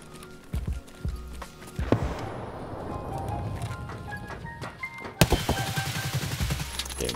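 Video-game gunfire from a player's favorite gun, the Raid, cracks out in separate loud shots and quick bursts, with a sharp blast near the end and busy in-game clatter around the firing.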